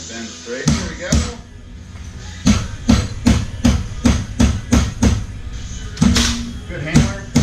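Sharp metallic hammer blows on a metal bracket for a velomobile door ring out in a steady series of about a dozen strikes, close and loud, with a person talking between them.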